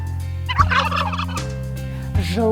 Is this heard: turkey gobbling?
yes